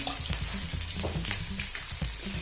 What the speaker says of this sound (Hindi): और सुरख मिर्च को थोड़ा सा भून लेंगे। और इसमें हम लोग डाल देंगे लहसुन कुटा हुआ